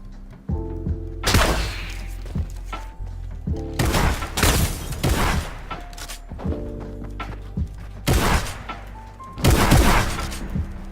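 Shotgun blasts in a season 9 game match, several loud, sharp booms with short decaying tails, spaced irregularly apart with quieter game sounds between them.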